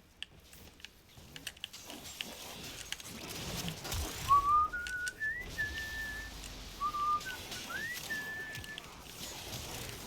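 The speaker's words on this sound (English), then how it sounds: "just can't help myself. I'm just enjoying whistling." A man whistles a short, wavering melody of sliding and held notes indoors while playing Warframe, with soft keyboard typing and game sounds beneath and no talking.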